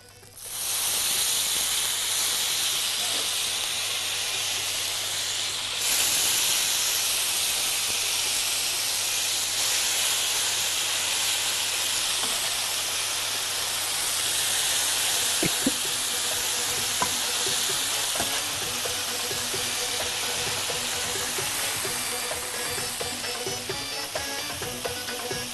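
Steam hissing from very hot plates holding pasta with meat, a continuous bright sizzle and hiss that starts abruptly and carries on steadily with small crackles, no voices.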